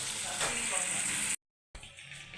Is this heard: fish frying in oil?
yes